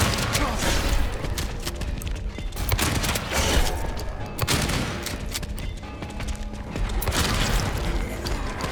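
Shotgun blasts and heavy impacts fill the action in Silent Hill 2, several booming shots spaced irregularly through dense, continuous game noise.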